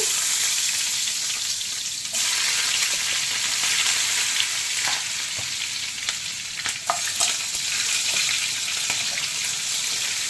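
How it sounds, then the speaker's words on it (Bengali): Steady, loud sizzling of onions frying in hot oil, with occasional stirring clinks, no voices. "এবার এর মধ্যে দিয়ে দেবো আগে থেকে কেটে রাখা পেঁয়াজ এই যে পেঁয়াজটা দিয়ে দিচ্ছি"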